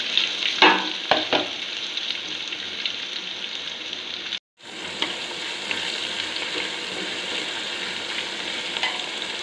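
Onion frying in hot oil with spices for a vegetable pulao, a steady close sizzle with crackling pops early on, a brief drop to near silence midway, then the frying hiss resumes evenly.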